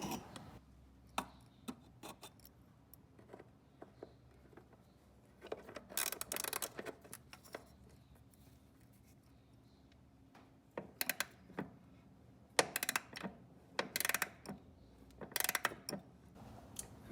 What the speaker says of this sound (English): And now we can remove these two bolts